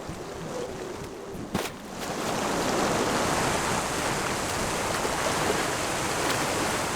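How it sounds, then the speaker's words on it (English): A small waterfall in the video game Gothic Remake, a steady rushing splash of falling water that swells after a brief soft start and then holds constant. "Oh, a tiny waterfall."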